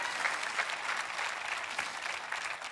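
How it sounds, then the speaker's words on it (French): Applause from an audience at a Christmas talk on finding peace, a steady wash of clapping heard fairly faint and distant for a few seconds, no voices over it. "tu devrais l'applaudir."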